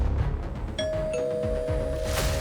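A house doorbell rings once with a clear electronic chime tone that holds steadily over a low background hum.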